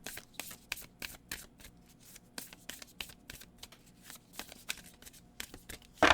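A deck of oracle cards being shuffled by hand, a rapid run of crisp riffling slaps and flicks in uneven bursts, close and fairly quiet, ending in a sharper clack, with no talking.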